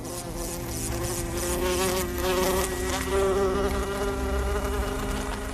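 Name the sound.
housefly flying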